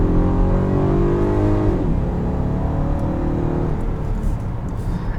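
A 2021 Volkswagen Atlas SEL V6 SUV accelerating, its engine note rising in pitch and then easing, loud and continuous with no talking.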